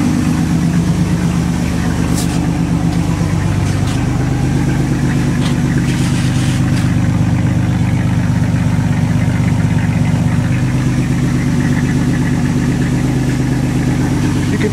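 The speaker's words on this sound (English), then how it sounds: "You can tell we need some exhaust work on this thing." A 1986 Cadillac Cimarron's engine idles steadily at operating temperature, its leaky exhaust adding a constant loud, rough, throbbing rumble with a faint ticking chuff. Heard up close with no talking.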